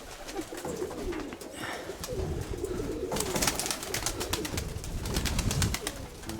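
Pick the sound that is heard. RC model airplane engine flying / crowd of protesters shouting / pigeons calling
pigeons calling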